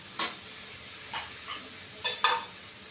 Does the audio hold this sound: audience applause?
no